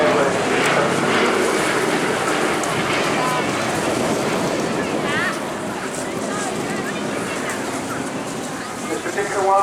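Sally B, the last airworthy B-17 Flying Fortress, drones past at the Eastbourne Airshow with a steady, broad piston-engine rumble while someone narrates over it.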